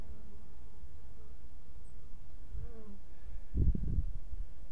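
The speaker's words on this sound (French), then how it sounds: "il y a encore des guêpes qui essayent de s'introduire" Wasps buzzing around a beehive, trying to get in, a faint insect hum against outdoor background noise with a louder buzzing burst near the end.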